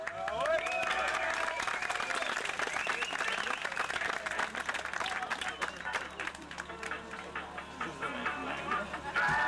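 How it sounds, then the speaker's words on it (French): A crowd at a 1993 car tuning show in Précy applauds a pink Renault Clio in CRS style, with dense sustained clapping and some crowd noise, while a voice talks over the applause through much of it. "Voilà, vous pouvez l'applaudir."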